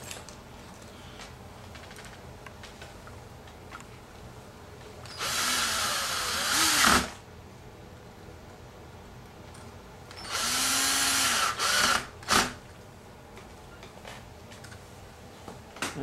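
A power drill drives doorknob screws into a door, with two whirring bursts of a couple of seconds each, the second followed by a short extra spurt, separated by quiet handling noise.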